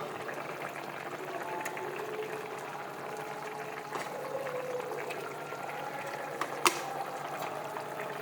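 Fish curry with green chillies simmers in a pan, giving a steady low bubbling and sizzling texture throughout with a couple of brief utensil clicks, heard alone without talk.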